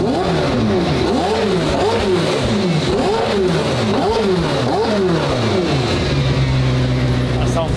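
A straight-piped McLaren Senna hypercar engine revs loudly in a rapid series of rising and falling bursts, then settles into a steady idle, close and dominant.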